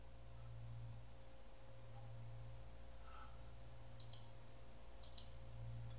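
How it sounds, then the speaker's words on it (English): Two quick pairs of crisp mouse clicks about a second apart while a software installer runs, close but quiet over a low steady hum in an otherwise still room. "Just click next, next, next, install, and it will install in a few seconds."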